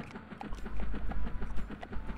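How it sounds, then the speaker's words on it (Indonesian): Brown robot horse hooves clip-clop in the Harvest Moon: Hero of Leaf Valley video game, a quick steady run of close hoofbeats over a low background. "di sini warnanya coklat ya, kuda robotnya ya, tuh robot kuda coklat"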